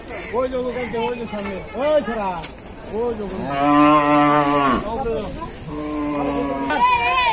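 A cow bought for Qurbani moos several times, long and close, with harmonic lowing calls repeating over a few seconds amid background chatter at a cattle sale.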